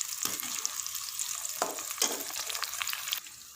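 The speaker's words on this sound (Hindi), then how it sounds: "प्याज को अच्छी तरह फ्राई गोल्डन ब्राउन कर लेंगे।" Sliced onions sizzling in hot oil in a pan for Indian dal, a dense steady crackle punctuated by a few bursts as they are stirred, close and alone with no talk.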